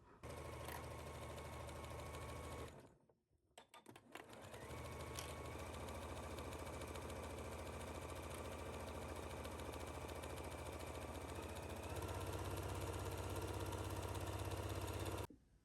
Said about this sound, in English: we are going to stitch this down at 5/8 at our machine